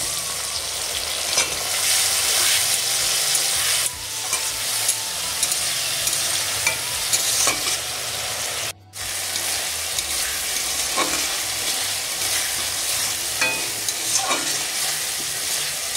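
Ground cumin paste and a splash of water sizzle and fry steadily in a pan for a bean-seed dal, with a utensil stirring through the loud, continuous crackle and no talking.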